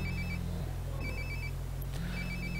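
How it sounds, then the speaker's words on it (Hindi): A flip phone rings inside the Life is Strange: Before the Storm video game, a repeating electronic ringtone in steady bursts over a low constant background hum, with no talking. "फोन आ गया किसी का दोस्त"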